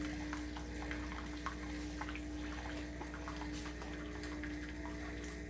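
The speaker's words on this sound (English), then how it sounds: "this is getting a little bit steamed up because we're dispensing hot water" A Philips Saeco Incanto coffee machine dispenses hot water, giving a faint, steady hiss and trickle with a low pump hum underneath, quiet and continuous without pauses.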